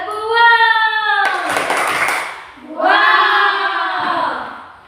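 Children in an Indonesian classroom clap in a clap game. A short, sharp burst of clapping sits between stretches of chanted voices.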